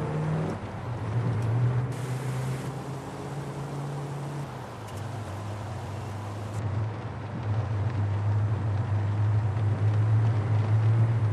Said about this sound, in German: Beschleunigen aus der Ecke, stehen an der Ampel und dann beschleunigen.